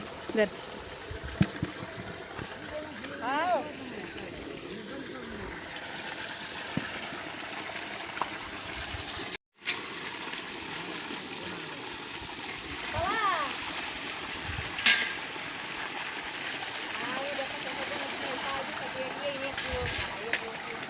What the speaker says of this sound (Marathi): आता मोटर चालू केली आणि पाणी भरतोय आहे